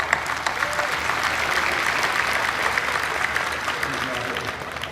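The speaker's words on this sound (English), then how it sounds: "Let's applaud Mr. Lakhani and the Agora." A crowd in a concert club applauds, a loud, dense, sustained roar of many hands clapping with scattered louder claps, continuing evenly from start to finish.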